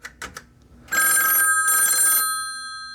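A vintage telephone on a PBX extension ringing, with a few faint clicks first, then two long, loud bursts of a metallic bell ring separated by a short gap, close and with no voices.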